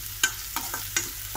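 Coriander leaves, green chilies and curry leaves with a little salt sautéing in a pan, a soft steady sizzle punctuated by four sharp scraping stirs at uneven intervals.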